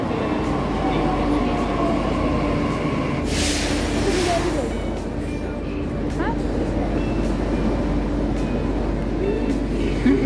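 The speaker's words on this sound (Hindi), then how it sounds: "आ गई सही वाली मेट्रो, हुडा वाली मेट्रो" A Delhi metro train rumbles loudly and close at a station, a steady heavy hum with a brief hiss of air partway through and a rising whine afterward.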